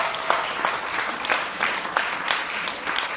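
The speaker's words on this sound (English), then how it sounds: "So if everybody could give a big round of applause to your friends." Audience applauding a panel at a farewell event, steady clapping with rhythmic swells, moderately near and filling the room without speech.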